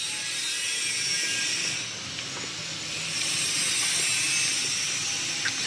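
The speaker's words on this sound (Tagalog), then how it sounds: "yung asawa ko ay nagluluto ng magigisa ng gulay" Pechay greens sautéing in a pan, giving a steady, close broadband sizzle and hiss that swells and eases slightly throughout, with no voices.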